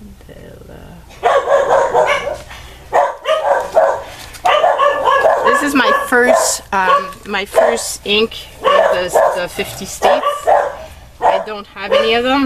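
Pet dogs barking and yipping indoors in a home, a mix of sharp barks and whimpers running under steady close talking throughout.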